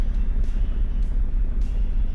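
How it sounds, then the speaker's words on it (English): A Ford Mustang Fastback engine in Car Mechanic Simulator 2018 runs at a steady low rumble, loud and continuous, with faint periodic swells. "Sounds the same as every other car."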